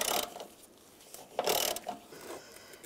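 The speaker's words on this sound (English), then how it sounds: "Take this one off using a 13 millimeter socket." A ratchet with a 13 mm socket removes a door hinge bolt on a 2007-2013 Chevrolet Silverado 1500, giving a few quiet, brief clicking bursts.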